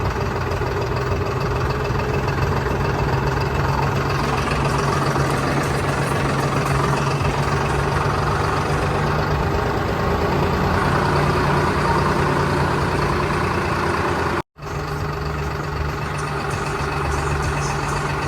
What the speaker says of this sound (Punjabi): ਟਰੈਕਟਰ ਕਾਫੀ ਆ ਰਹੇ ਨੇ ਹੋਰ ਪਿੰਡਾਂ ਤੋਂ ਵੀ